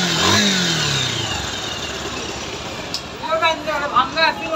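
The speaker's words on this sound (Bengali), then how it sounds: "অবশ্যই আমরা ইঞ্জিনের সাউন্ড শুনবো" A repaired Bajaj Pulsar 150 motorcycle engine runs close by, starting with a steady idle and then giving several short revs in quick succession, with some speech mixed in.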